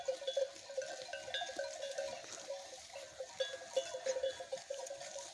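A flock of sheep and rams grazes in the open, with the clank of bells ringing on and off throughout, faint soft bleats and the animals' tearing and chewing at the grass nearby.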